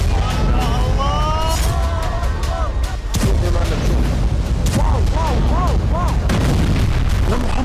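Missile attacks strike Israeli cities, including Tel Aviv, with repeated heavy booms and blasts over a constant loud rumble. Wavering, wailing voices or sirens rise and fall through the chaos.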